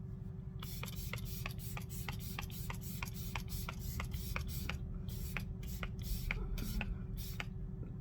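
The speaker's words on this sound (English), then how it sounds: "now I'm gonna do a quick spray of Matte Fix Plus" A makeup setting spray, Matte Fix Plus, misted over the face in a long run of short, quick pumps, each a soft airy hiss in steady rhythm, close and fairly quiet, with no talking.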